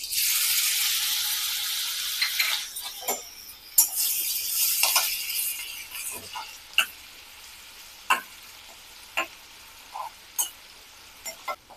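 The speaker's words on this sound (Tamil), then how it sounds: "இது மாதிரி பொடிச்சு நம்ம ஆயிலோட சேர்த்து வதக்கும் போது" Ground garlic, ginger and green chili paste sizzles steadily in hot oil, a dense crackling hiss that eases over time, broken by sharp clicks and taps of a utensil stirring the pan.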